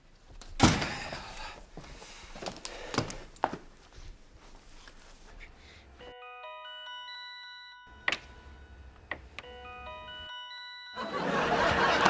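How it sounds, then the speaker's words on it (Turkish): Soft electronic phone notification chimes play in short bursts amid quiet room noise and a few knocks and rustles. "telefon sesi nereden geliyor Erman?"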